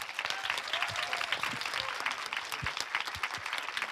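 An audience at a Finnish political event applauds its panelists, a sustained round of clapping with sharper individual claps standing out, moderately distant and fairly quiet.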